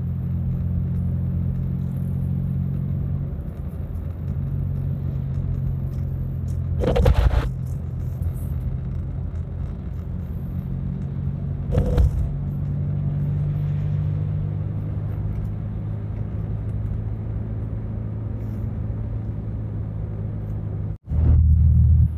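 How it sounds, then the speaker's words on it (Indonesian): A car cruises a city road in Jambi at low speed, around 40 km per hour, giving a steady low rumble with a couple of brief louder bumps and a short dropout near the end. "Di jalur ini kita hanya bisa memacu kendaraan dengan kecepatan 40 km per jam."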